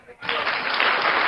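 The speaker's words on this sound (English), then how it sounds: "The audience is clapping." An audience bursts into applause after a short pause, dense and steady clapping that stays loud and even to the end.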